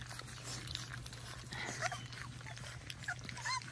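Faint high-pitched whimpers and squeaks from Cane Corso puppies being weaned onto raw food, scattered through the clip over low background noise; no speech.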